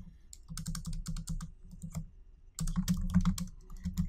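Computer keyboard typing in bursts of rapid keystrokes, with a short pause before a louder, denser run, close and alone with no voices.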